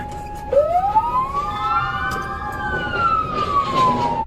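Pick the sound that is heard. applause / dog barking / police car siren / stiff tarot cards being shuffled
police car siren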